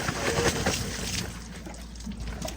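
Live bass thrashing and splashing in water, a busy wet churning that is loud at first and then eases off, with no talk over it.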